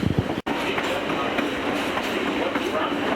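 A passenger train on the Adirondack Scenic Railroad rolls steadily along the rails as it picks up speed, giving a loud continuous rumble and wheel noise with a very brief dropout near the start.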